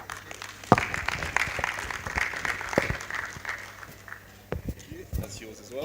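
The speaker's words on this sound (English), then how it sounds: "A lot of applause for him one more time" Audience applause at a fuel industry expo, scattered claps with some sharper nearby hits, rising and falling over several seconds beneath a low hum, with voices talking over it.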